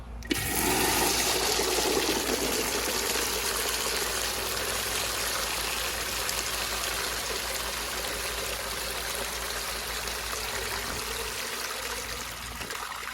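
A Universal Rundle Colburn urinal flushes with a loud sudden gush of water that settles into a steady rushing stream and trickle, continuing close up for the whole stretch.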